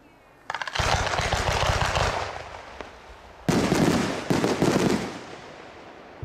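Aerial fireworks of silver crowns with green straw pistols burst in a rapid crackling barrage, dense popping and booming in two waves with a short lull between, loud and fairly close, without speech.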